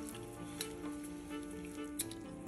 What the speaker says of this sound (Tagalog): Pakuluan natin ito ng 2 minutes para yung ma-infuse ang anghang ng luya sa vinegar tsaka sugar na mixture.